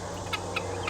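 Pet birds give three short, soft clucks at an even pace over a low steady hum, fairly close but quiet.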